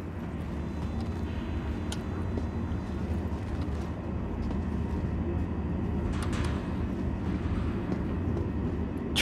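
Train in the video game Star Citizen, a steady low rumbling roar of a passing train with a few faint clanks and hiss layered on top, continuous throughout with no talk.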